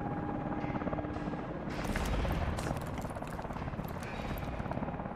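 A helicopter in the video game Call of Duty Advanced Warfare makes a loud, steady rotor chop and engine roar throughout, close and continuous.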